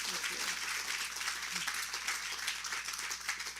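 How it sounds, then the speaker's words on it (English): Audience applause at a book talk, a moderate, steady patter of clapping from a seated crowd lasting a few seconds, with faint murmuring voices underneath. "Yes, that's clap-worthy."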